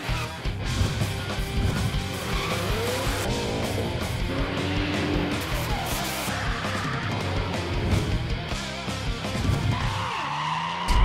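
Drift race cars at a French drift championship round scream through continuous tire squeal and skidding, engines revving hard and loud throughout without pause.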